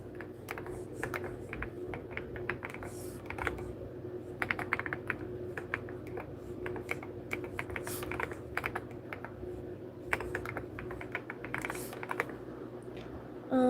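Steady typing on a computer keyboard, with dense irregular clicks and key taps running continuously at close range, no voices.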